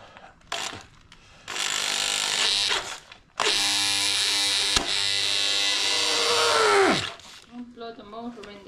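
A power drill whirs loudly in a few bursts into a wooden table with a large knot, with a long sustained run that winds down abruptly, with brief voices between.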